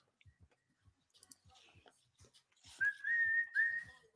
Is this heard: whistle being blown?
yes